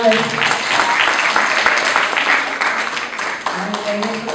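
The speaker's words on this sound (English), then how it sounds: "Give the Whiteboard a big round of applause" Students at a math-science-technology magnet school clap for a winning team called Whiteboard, a steady crowd of hands filling the room for several seconds while voices chatter and call out over it.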